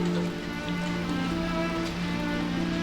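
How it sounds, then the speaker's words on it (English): Steady rain falling, a soft, even patter with sustained tonal hum layered underneath, continuous throughout with no voices. "Rain falling."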